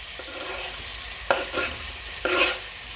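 A pot of lamb curry with two chilies is stirred, giving a few brief scraping strokes about a second apart over a faint simmering hiss; no one speaks.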